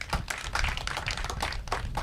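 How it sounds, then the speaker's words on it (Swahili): Audience applause at an outdoor community gathering where cotton seed is being handed out to farmers in Siaya, a dense, steady patter of many hands clapping for about two seconds with no talk over it. "Tupe makofi kwa hiyo."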